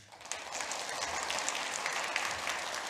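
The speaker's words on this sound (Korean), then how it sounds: "박수 한번 해줘요" A church congregation applauds during a Sunday worship service, a steady roomful of clapping that holds from start to finish without pause.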